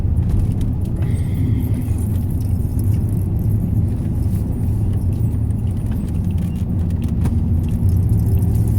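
Cabin noise inside a moving camper van recently fitted with a new radiator: a steady, loud low engine and road rumble that holds for the whole stretch, with light rattling and jingling on top and no talking.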